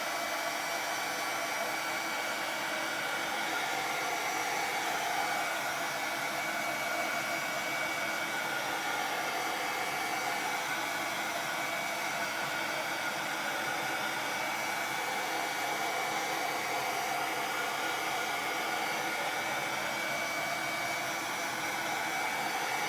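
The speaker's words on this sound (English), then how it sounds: "I am going to dry this with my heat gun" A heat gun blows a constant, loud, airy whoosh over a wet craft project for the whole stretch, unbroken and steady, with no voices.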